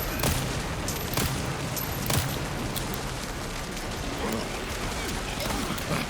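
Dense bursts of gunfire from a survival-horror shooter, Resident Evil 9 Requiem on Insanity mode, crackling in a rough, uneven volley with a few louder sharp shots standing out over a constant gritty wash.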